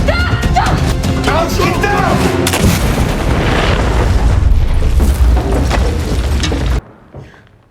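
Loud, continuous blast and rumble from a big explosion in an action film scene, dense booms and crashing debris over a score, cutting off abruptly near the end.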